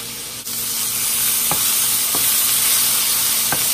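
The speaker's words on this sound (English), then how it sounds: "I'm going to add some garlic." Garlic sizzles steadily as it fries in a pan, with a few sharp scrapes of stirring standing out above the constant hiss; no one speaks.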